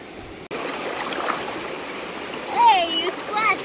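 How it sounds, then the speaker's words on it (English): Water splashes and burbles in a river stream in Capitol Reef National Park, a continuous close rushing wash with a couple of louder splashes near the end, and a voice calling out over it. "Hey, you splashed me."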